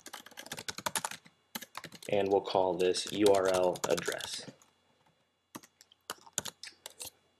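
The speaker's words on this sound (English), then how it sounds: "when you're done typing in the URL" Rapid clicking keystrokes on a computer keyboard come in quick bursts before and after a person speaks, with the typing close and crisp and briefly pausing under the talk.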